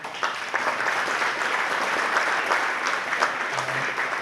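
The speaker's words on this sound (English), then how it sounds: "so maybe give a round of applause there for the referee" A crowd at a hurling or football final in Wexford Park gives the referee a steady round of applause, heard from a distance. The clapping is broad and even, holds at a moderate level throughout, and a few sharper claps stand out.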